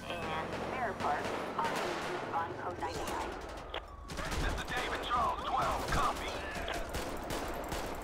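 Gunfire in a GTA 5 LSPDFR police shootout, with repeated shots ringing out in bursts over a busy, dense game soundscape for about eight seconds, while someone talks intermittently.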